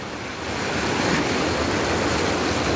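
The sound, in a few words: strong current of Bagsit River flowing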